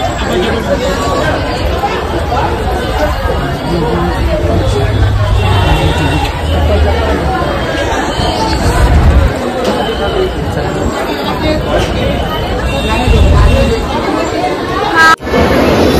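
A dense crowd at a Hindu temple fills the air with steady, close babble of many overlapping voices, a continuous hubbub with no pauses.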